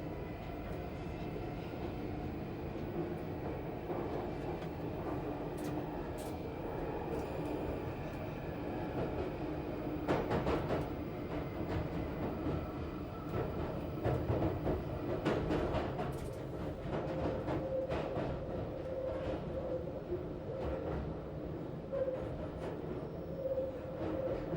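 London Underground Northern Line train running on the West End branch, a steady close rumble and rattle that continues throughout with occasional clanks, and no voices.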